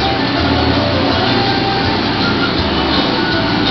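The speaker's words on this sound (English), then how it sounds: "That's when the blower comes on." A 57-year-old transmitter machine runs with its blower on, giving a loud, steady broadband rushing roar with a low rumbling hum underneath, constant throughout without pauses.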